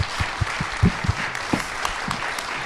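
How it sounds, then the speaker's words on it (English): A crowd at a live political event for the Idaho lieutenant governor race gives candidates a round of applause, with close, distinct claps standing out over a broad wash of clapping that tapers off. "Give these guys a round of applause"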